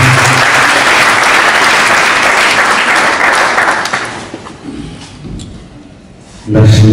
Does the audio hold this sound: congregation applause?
yes